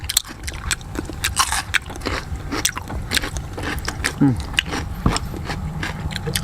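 Someone chews raw salmon sashimi close to the mic, with soft wet bites and smacking mouth sounds repeating irregularly while a voice murmurs intermittently alongside.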